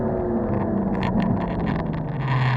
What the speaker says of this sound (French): On relâche l'accélérateur et on vient freiner.